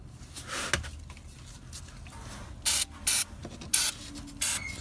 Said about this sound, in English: Spray that with some lubricant so it comes out nice and easy.